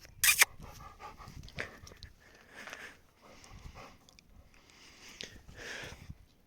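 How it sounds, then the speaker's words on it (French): A dog pants quietly in bursts, close by, with soft rustling and a short clatter at the start. "Et ça c'est mon chien."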